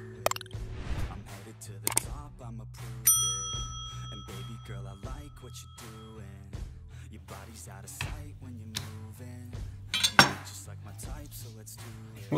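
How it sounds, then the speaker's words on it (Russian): Chicken thighs being boned by hand in a home kitchen while a salad with fried chicken is prepared. Soft wet handling and scraping sit under a steady low hum, with scattered light clinks of a knife and dishes. "Беру куриные бедра и отделяю мясо от костей"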